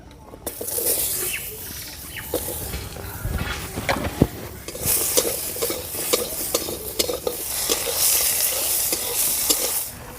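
Potatoes are added to a pan of hot oil left over from frying small fish and sizzle loudly, with scraping stirring, crackles and spatters up close for about ten seconds.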